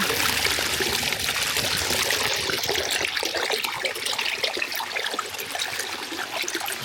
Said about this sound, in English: And you can see water spitting out near the top.